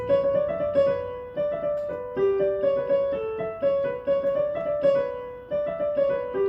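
A quick piano melody of short repeating phrases, each note striking clearly before decaying, played at close range with no talking.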